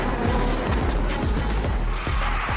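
A race car drifts at high speed on an airport runway, its engine roaring loudly and continuously with a rough rasping edge throughout, no voices.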